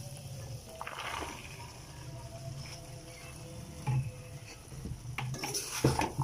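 Kachnar buds stirred into cooked qeema in a pan, with a spoon scraping and clinking against the metal under a soft frying hiss, close with a few louder knocks near the end.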